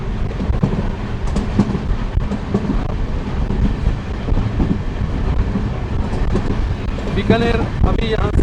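A moving train carriage on the Amritsar–Bikaner Superfast Express rumbles steadily throughout, with a continuous low roar of wheels on rails and wind, and a brief squealing whine near the end.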